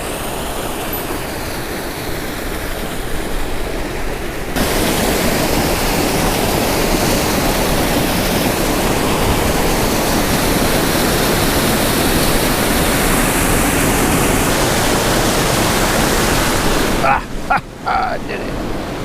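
Water rushing steadily through a stream channel at McKinney Falls, a broad continuous roar that grows louder partway through and holds up close, then breaks into brief handling noises near the end.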